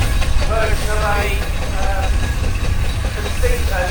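A steamroller or showman's tractor steam engine, bought in 1965, runs steadily in a country show arena, a low chuffing rumble under continuous announcer talk and crowd noise.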